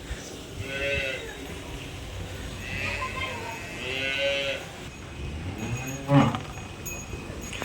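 Cows lowing on a dairy farm, several drawn-out moos spaced across the clip, fairly close, over a noisy barn background, with a louder burst near the end.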